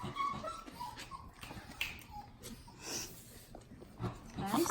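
Puppies whimpering and yipping in soft, high little cries scattered through the moment, fairly quiet with faint rustling and a low voice in the background.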